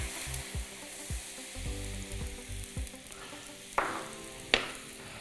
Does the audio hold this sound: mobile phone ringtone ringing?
no